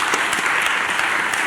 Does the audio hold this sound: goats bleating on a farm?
no